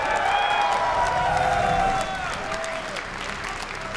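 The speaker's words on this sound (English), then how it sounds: "Not sure if the crowd likes Bomber a lot, or they just really, really love Terran." A large crowd at a StarCraft 2 esports tournament applauds and cheers loudly, with whoops rising over sustained clapping that eases slightly partway through.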